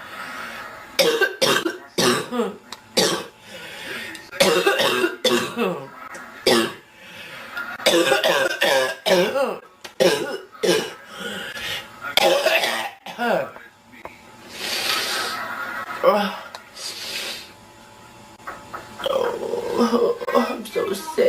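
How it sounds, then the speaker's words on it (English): A girl coughs repeatedly in tired, uneven bursts with throat clearing and rough breaths between them, close and fairly loud, with a few quiet pauses. "tired coughing"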